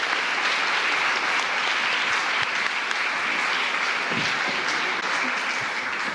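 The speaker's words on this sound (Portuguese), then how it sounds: "Você pode aplaudir o Senhor?" A church congregation applauding, steady even clapping across the whole stretch at moderate level, with no voices on top.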